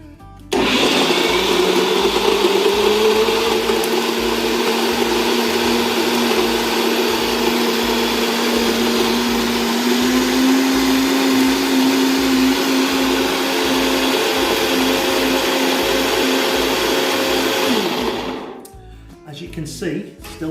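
Blender whirs loudly and continuously for about eighteen seconds, mixing egg yolks, butter, condensed milk and black licorice for ice cream, the motor pitch rising slightly before it cuts off.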